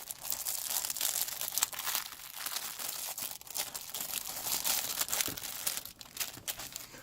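Double plastic wrapping around a Freewise 25-in-1 precision screwdriver set crinkles and crackles continuously up close during unboxing, with sharp handling bursts and no voices.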